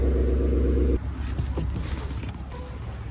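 A Dodge Hornet with its exhaust valves open gives a loud, deep engine rumble for about a second, then drops to a quieter, uneven idle that carries on through the rest of the clip.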